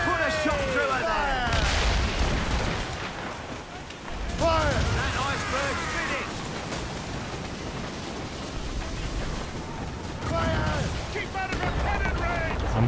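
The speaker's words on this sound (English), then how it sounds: "Cannon ready! Fire!" Cannon fire during a naval battle in the Assassin's Creed Rogue Remastered video game, with several booming shots in bursts over rumbling battle noise and voices shouting orders throughout.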